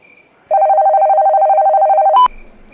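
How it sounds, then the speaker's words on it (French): School fire alarm in an animation: a loud electronic bell tone holds steadily for about two seconds, then cuts off with a short sharp burst, with no talking over it. "je crois que c'est l'alarme d'incendie"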